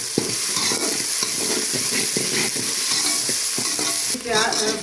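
Ginger garlic paste frying in a hot pan for a tinda vegetable curry gives a loud, steady sizzle with repeated stirring scrapes throughout, and no one speaks.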